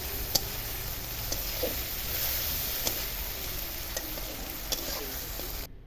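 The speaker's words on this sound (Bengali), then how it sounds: "ভালো করে একটু কষিয়ে নিচ্ছি পেঁয়াজটা টমেটো" Onions and tomatoes sautéing with turmeric powder in a pan, a steady low sizzle with occasional sharp ticks of a spoon against the pan as the mixture is stirred.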